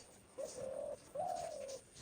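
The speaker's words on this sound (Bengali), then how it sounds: "এই দুইটা ঘুঘু পাখির ডাক আমার কাছে এতটাই সুন্দর লাগতেছিল" A dove calls nearby with two soft, rounded coos in a row, each a smooth sustained note, clear against quiet outdoor background.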